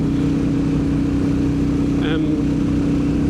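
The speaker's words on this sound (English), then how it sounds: "I'm surprised at how good the stock exhaust sounds on it" A steady, rumbling Royal Enfield Bullet motorcycle stock exhaust idles throughout, a low throbbing note with a brief higher mechanical whine partway through.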